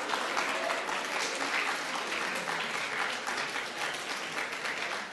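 An audience claps steadily for a contestant on a spelling quiz show, a dense, even round of applause lasting several seconds without talk.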